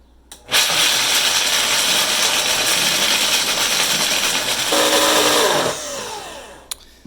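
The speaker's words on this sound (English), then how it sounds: "I like to pulse the blender and use anything to scrape the sides down" A loud blender whirs for about five seconds grinding nuts, its pitch shifting as the contents churn, then spins down and stops, followed by a small clatter.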